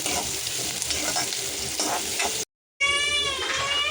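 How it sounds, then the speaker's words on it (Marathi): Onion, curry leaves and garlic fry in hot oil for a Koli-Agri style brinjal, potato and shrimp dish, giving a steady close sizzle with stirring. After a brief silent cut, a higher whistling or whining tone sounds over the frying. "आता लगेचच आपल्याला कांदा आणि हे कढीपत्ता आणि लसूण ॲड करायचं आहे तेलामध्ये। त्यांना मस्त असं थोडंसं सॉफ्ट होईपर्यंत भाजून घेऊया।"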